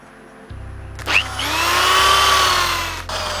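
A power drill spinning a motorcycle mag wheel for polishing in a garage whirs up to speed and spins steadily for a couple of seconds with a rising whine, then winds down, close and loud.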